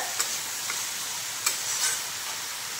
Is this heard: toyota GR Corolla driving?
no